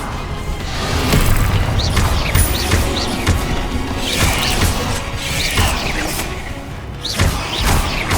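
Bombarda spell blasts crash and boom in Hogwarts Legacy combat, loud repeated impacts with clattering debris and mechanical whooshes layered over one another.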